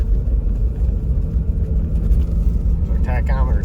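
Heavy low engine rumble from a Ford F350 Super Duty with the 7.3 Godzilla V8, towing 12,000 pounds in seventh gear as revs climb toward 3,000 RPM, steady and close inside the cab while someone talks over it.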